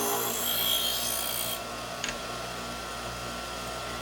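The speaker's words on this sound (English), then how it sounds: "all I'm doing is I'm just making a pass across the wheel until I bring up a burr" Left hand shear blade pressed against a turning sharpening wheel, giving a steady close rasping grind for about a second and a half that then stops, leaving a low motor hum and a brief faint scrape.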